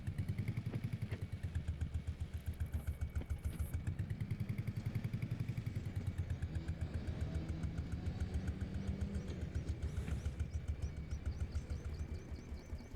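A farm vehicle engine in Farming Simulator 25 idles with a rhythmic, clattering putter, steady and fairly close, briefly revving up and settling back down.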